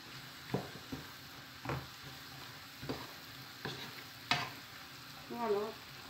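Beef shank fries in a pot while being stirred, the steady low sizzle broken by a handful of sharp scraping stirs at irregular intervals, close and moderately loud, with no talking.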